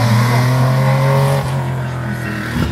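A Porsche 911 rally car on a stage of a rally in Chablais roars past close by, its engine droning loudly and steadily before the pitch drops and the sound eases as it moves away.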